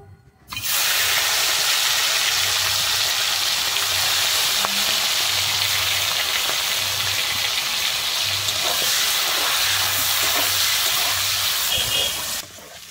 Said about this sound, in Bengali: আমি প্রথমে চিংড়ি মাছগুলোকে ভেজে নিচ্ছি।